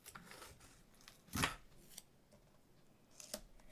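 Scissors snip paper for a Christmas card, a few quiet, close crisp cuts with one louder snip, spaced out among soft handling noises and no talking.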